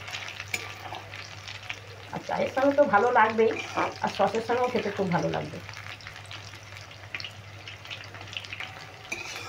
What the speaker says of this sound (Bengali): সোয়াবিনগুলো যাতে ভেতর পর্যন্ত ভাজা হয় এইভাবেই ভেজে নিতে হবে।